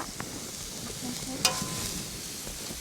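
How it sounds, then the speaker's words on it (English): Mixed vegetables for fried rice frying in a pan, a soft continuous sizzle with a brief clink or stir near the middle, low and close. "we fry it until it's a little bit soft"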